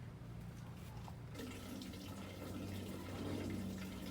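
Cold collected rainwater runs in a steady, continuous flow. It is moderately loud, nearby and alone, with no voices.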